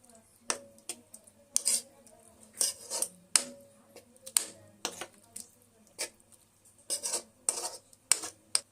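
Fish, mango and coriander leaves being mixed in a pan for neuli macha rai, with a run of sharp metallic scrapes and clinks from the utensil against the pan, up close and irregular.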